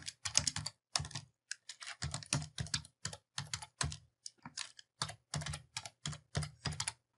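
Computer keyboard typing in a word-processing document, a steady run of close, crisp keystrokes in quick bursts with short pauses, no voices.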